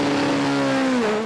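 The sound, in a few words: Peugeot Super 2000 rally car engine revving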